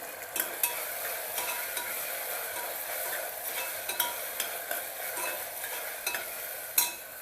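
Green chillies sautéing in a pan for chicken pulao, a steady close sizzle with repeated light scrapes of a spoon stirring, sharper clicks now and then, no voices.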